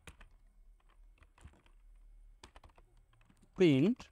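Sparse typing on a computer keyboard, soft scattered key clicks with pauses between them, heard beneath quiet speech and ending with a short voiced sound.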